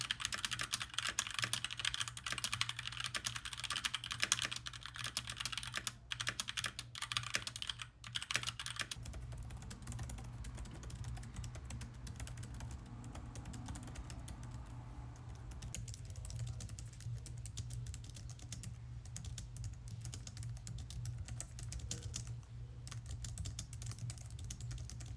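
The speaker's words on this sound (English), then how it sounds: "let's do a quick sound test of a few different keyboards" Steady, rapid typing on a Logitech MX Keys Mini low-profile keyboard, crisp and close, with continuous clicking keystrokes and no talking.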